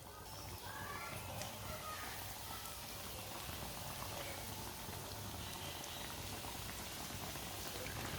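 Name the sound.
bread pakoras frying in oil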